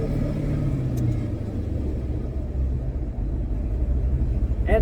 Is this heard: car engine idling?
yes